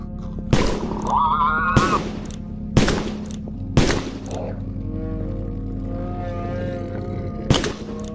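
Gunfire from an indie first-person shooter video game comes in loud, sharp shots spaced about a second apart, separated by gaps of lighter in-game noise and a steady low background hum. Nobody talks.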